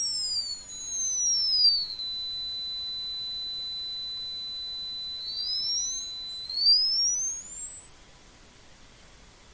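A pure electronic tone sweeps downward, holds steady at a high pitch, then glides upward twice to a very high whistle, alone with no other sound.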